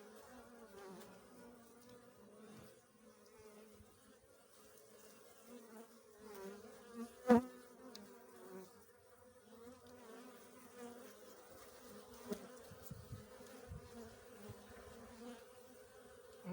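Bees hum and buzz steadily at close range inside a hive, a soft, continuous drone with occasional louder individual buzzes passing by.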